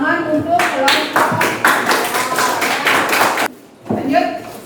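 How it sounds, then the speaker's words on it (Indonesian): A classroom group claps for a student presentation group in a quick, rhythmic run of sharp claps. The clapping stops briefly, then picks up again, with voices mixed in. "Tepuk tangan untuk kelompok."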